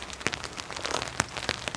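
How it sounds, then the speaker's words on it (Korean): Heavy rain pours down on a used Renault Master camper van during a heavy-rain warning, a dense steady patter with sharp individual drop hits on the roof, loud and close, with no talking. "비 온다. 비 많이 온다, 그지?"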